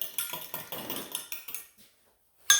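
Pancake batter whisked in a bowl, a rapid, even series of utensil scrapes and taps against the sides for almost two seconds, a short pause, then a sharp clink.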